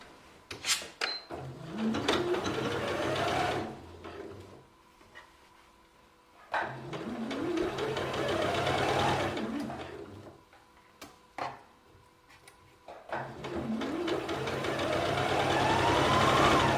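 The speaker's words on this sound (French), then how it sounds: "on va venir surjeter les deux marges de couture ensemble, tout du long, sur toutes les pièces" An overlocker sergs the seam allowances of a long maternity skirt, running in three long bursts. Each burst winds up in pitch to a loud, steady hum, with clicks and pauses between the runs.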